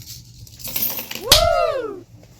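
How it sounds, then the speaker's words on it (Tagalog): Coins jingling and clinking inside a bag, a short rattle building to one bright metallic ring that decays with shimmering overtones, close and fairly loud with no talk. "Tapos ito may mga barya ako."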